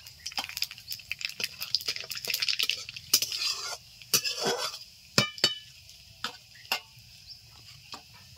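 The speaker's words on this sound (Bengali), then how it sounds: "ফোড়নে দিয়ে দিচ্ছি কালো জিরে" Black cumin seeds hitting hot oil in a pan, a short burst of crackling sizzle and spatula scrapes, then sparse clinks against the pan as it quiets.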